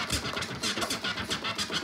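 A DJ performs a transformer scratch on a turntable: a fast, even stutter of choppy, gritty bursts, roughly five per second, loud and close with no voices.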